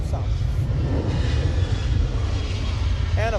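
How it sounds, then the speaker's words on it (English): Emirates flight 49, an airliner landing south, roars as a steady, loud low-frequency rumble throughout, with no distinct voices, only a faint bird-like chirp near the end. "We have Emirates 49 landing south."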